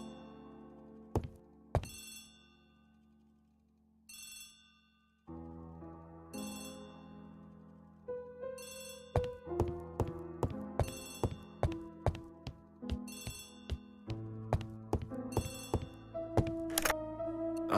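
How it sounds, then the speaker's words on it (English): An old telephone rings in repeated bursts of bright bell trills, loud and close, while background music with plucked and struck notes plays underneath. "Poirot, the telephone."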